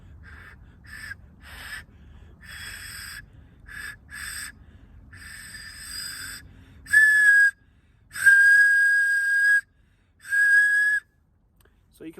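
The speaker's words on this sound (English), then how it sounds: "So let's see how this whistle works." A small survival whistle built into a Panacea X FireFly fire-starter stick, blown in a series of short, breathy, airy attempts before several longer, clearer, shrill tones sound out at moderate volume.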